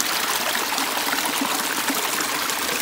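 Mountain stream water flows and trickles steadily in the Montana outdoors, a continuous close rushing babble with no voices over it.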